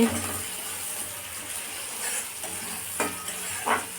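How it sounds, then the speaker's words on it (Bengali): Chopped onions frying in oil in a pan, a continuous crackling sizzle with occasional stirring scrapes and clinks, fairly close and steady. "তো দেখো বন্ধুরা পেঁয়াজটা একটু ভাজা হয়ে এসছে"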